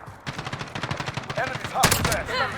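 Rapid bursts of FAL rifle fire in a first-person shooter game, a steady stream of sharp shots followed by a brief louder crack, fairly faint overall, with some talk mixed in.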